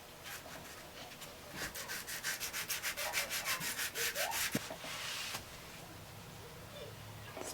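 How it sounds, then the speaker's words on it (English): Hand sanding of a BMW E46 M3 roof rail moulding with 240-grit sandpaper, a close, rhythmic run of about a dozen quick back-and-forth rasping strokes, then stopping. "it just took a little longer to sand it smooth"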